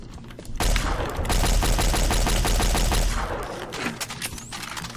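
Plasma rifle firing in the Doom mod Project Brutality: a loud, dense, sustained burst of rapid shots lasting several seconds, then tapering off with lighter game noise behind it.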